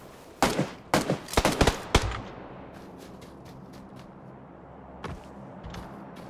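Gunfire in the shooter game PUBG Lite: a quick run of sharp shots, some in tight clusters, followed by one isolated shot over a low, steady background.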